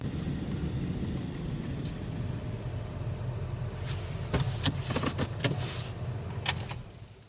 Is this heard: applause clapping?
no